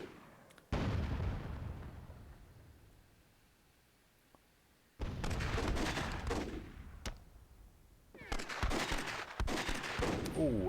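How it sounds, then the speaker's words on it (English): Bursts of gunfire and booming cannon shots from a World War II battle in the strategy game Myth II: Soulblighter, coming in three loud clusters with a quiet stretch between them. "Father Xmas with a nice shot, but it doesn't completely kill the cannon"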